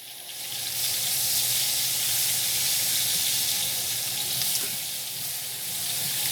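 Onions sizzling steadily in a pan just after liver has been cooked in it, a close, continuous frying hiss with faint crackle that holds for several seconds.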